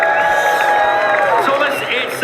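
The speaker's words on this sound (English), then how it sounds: "Can we get a huge round of applause for Thomas HD and Tripper?" A crowd cheering and whooping at a Fortnite FNCS Invitational event, a loud, continuous roar with rising shouts and whistles across the whole stretch, close and busy.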